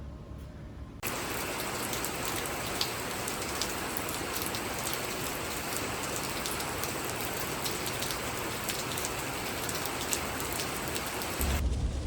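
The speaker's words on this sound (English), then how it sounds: "you can probably hear, or maybe not, that it is raining pretty bad" Heavy rain pours down steadily and close during a sudden thunderstorm while a truck bed cover is being installed, a constant loud hiss with scattered drops and no voices.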